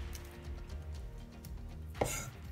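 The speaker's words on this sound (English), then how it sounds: "We're going to crush our garlic." Knife crushing and chopping garlic on a board, heard as a single sharp crunching strike near the end over a low background hum.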